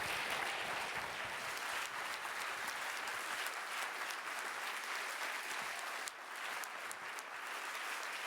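Sustained applause from a seated audience after a speaker finishes, many hands clapping in an even, dense wash that holds steady throughout with a few louder claps near the end.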